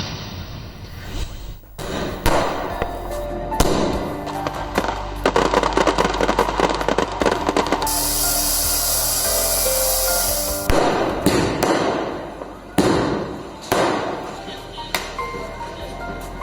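Diwali firecrackers and fireworks burst in a loud, irregular barrage of sharp bangs and thuds, with a sustained hissing stretch in the middle and scattered explosions continuing near and far.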